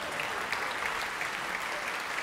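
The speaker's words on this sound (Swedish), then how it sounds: "Han förtjänar en applåd trots att han inte är här." Audience applause at a graduation concert, a steady, dense clapping from a crowd throughout, moderately distant and fairly faint, with no talking.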